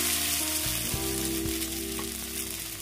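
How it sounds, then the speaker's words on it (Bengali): Chowmein noodles frying in hot oil in a wok: a loud, continuous close sizzle with a low underlying hum and faint stirring, and no talking. "এই চাউমিনগুলোকে ভেজে নেব।"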